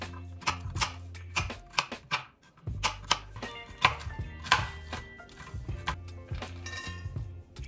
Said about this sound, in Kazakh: Грек жаңғағын қатты ұсақтамай турап аламыз.